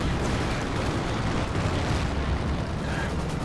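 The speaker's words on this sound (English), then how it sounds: "Ooh, mechanized artillery does get a nice hit there." Mechanized artillery shells strike in the wartime strategy game Company of Heroes 2, a dense, loud, continuous rumble of explosions and bursts filling the scene without a break.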